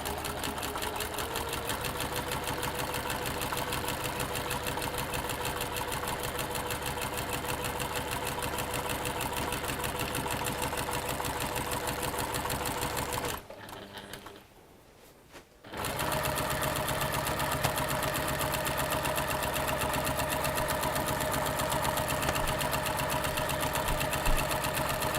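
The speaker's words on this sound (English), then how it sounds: "So we're sewing over that gap that we've made in the middle with a turned over piece." A sewing machine stitching a turned-over piece of fabric across a gap, a fast steady mechanical chatter held close that stops briefly partway through and then resumes at the same pace.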